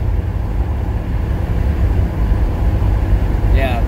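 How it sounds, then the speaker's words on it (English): A junkyard-rescued Buick Grand National rumbles with a loud, steady low engine drone inside the cabin, and a brief rising turbo whistle climbs in pitch right at the end. "Hear that turbo spooling up."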